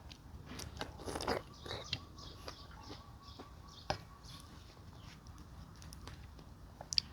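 Someone bites into and chews fresh vegetables picked from a garden, served with pork larb. Crisp crunches come irregularly up close, loudest early, with faint bird calls in the quiet background.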